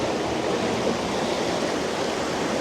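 River water flows steadily out of an intermittent spring and down a canyon near Afton, Wyoming, a constant broadband rushing wash like a stream or small waterfall, close and even throughout with no talking.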